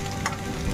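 Elephant foot yam and shrimp stir-fried in oil in a pan, giving a close, steady sizzle with a brief scrape of stirring.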